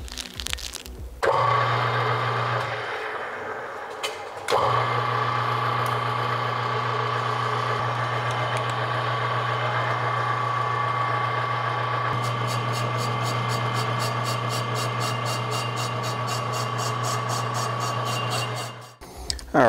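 A brake lathe turns a Nissan Pathfinder brake rotor at 240 RPM, giving a steady mechanical hum with a sustained tonal whine. The cut pauses briefly early on, and a faster rhythmic chatter joins in over the last stretch.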